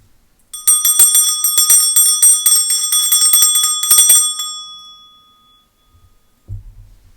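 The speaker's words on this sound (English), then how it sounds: "I'm going to start by clearing the energy with my bell." A small hand bell rings rapidly for about four seconds, bright and close, then its ringing tone fades into silence, followed by a soft low thump.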